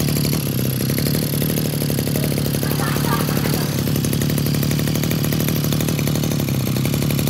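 A small Zenoah GE2KC brush cutter engine runs nearby at a steady, buzzing idle that holds at an even loudness throughout, without any pauses.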